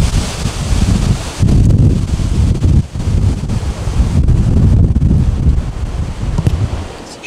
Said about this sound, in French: mais écoutez le vent